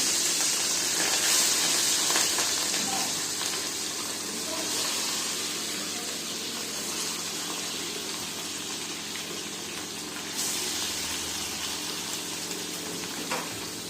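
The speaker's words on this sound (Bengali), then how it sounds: "মাছটা ভাজা করতে দেবো।" Fish sizzles in a hot pan of oil on a home kitchen stove, next to eggplant frying on the other side, a close, continuous hissing sputter that swells and eases slightly.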